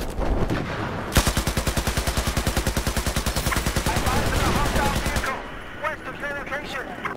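An M240 Bravo machine gun fires in a combat video game, one sustained, rapid, steady burst of about four seconds, loud and close, preceded and followed by game noise.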